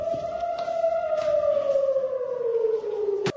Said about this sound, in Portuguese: Foi com o som destas sirenes que Daniela acordou